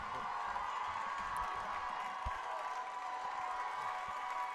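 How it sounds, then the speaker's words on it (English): A football crowd at an Adrian versus Tecumseh game keeps up a steady roar of cheering and applause, dense and continuous at moderate distance, with a few sharper claps and whoops rising out of the wash. "And the crowd definitely is up and going."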